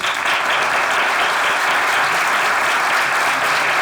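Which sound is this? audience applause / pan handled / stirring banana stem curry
audience applause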